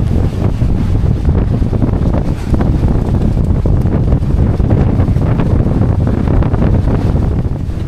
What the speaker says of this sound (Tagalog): Hangin pa, lumakas pa hangin.